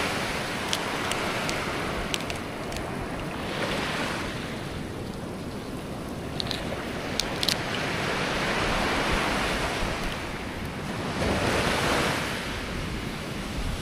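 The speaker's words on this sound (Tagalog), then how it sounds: "Uy, yung alon men." Continuous roar of ocean waves washing in close by, with wind buffeting the microphone and occasional faint clicks; no voices.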